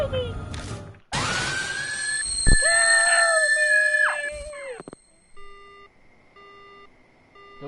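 A woman screams in the Death Mark horror video game, then a phone line cuts off into a flat electronic tone and steady repeating beeps of a dead line, loud and without talk.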